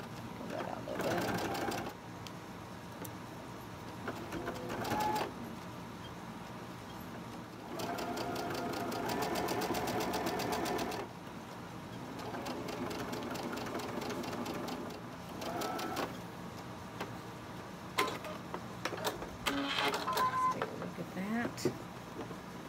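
Sewing machine stitching a quilt block at a quarter-inch seam, a steady rapid mechanical whir in several runs of a few seconds each with brief stops between, fairly quiet and close.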